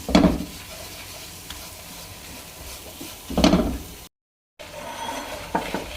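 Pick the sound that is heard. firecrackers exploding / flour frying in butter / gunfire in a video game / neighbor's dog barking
flour frying in butter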